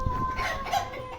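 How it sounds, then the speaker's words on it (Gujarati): A rooster crowing nearby, a single drawn-out call lasting about a second with tonal harmonics, heard alone over a faint outdoor background. "મિત્રો કુકડા કુકુ કરે રે."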